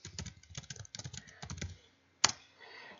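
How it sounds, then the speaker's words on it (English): Typing a name on a computer keyboard: a quick run of close, crisp key clicks, a short pause, then one louder keystroke. "So I'll go ahead and type in that one."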